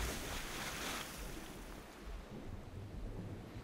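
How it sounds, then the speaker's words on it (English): Water and waves in the video game Legend of Grimrock 2, a steady, full wash of surf and rushing water with no talk. "I could go into the water."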